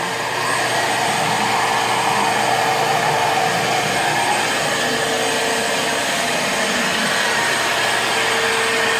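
A vacuum cleaner sucks ash and debris while a fireplace is cleaned, a loud continuous whine and roar with a rattling suction hiss, close up and without talk.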